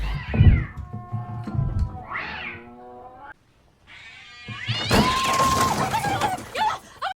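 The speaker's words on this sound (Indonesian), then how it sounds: "tiba-tiba terdengar suara kucing baku hantam tepat di atap kamarnya" Cats yowl and screech at each other on a roof in a short, agitated squabble, with a brief pause before a louder burst of caterwauling.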